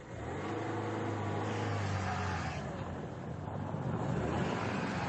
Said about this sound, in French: notre petite voiture est tout aussi à l'aise sur la terre ferme que sur la glace du lac Baïkal